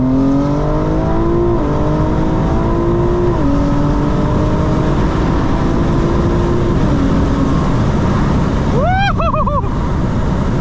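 A 900hp 2025 BMW M4 Competition xDrive pulls hard through rapid gear shifts, its loud engine note climbing and dropping in quick steps with barely a pause between gears, then a squealing whine near the end.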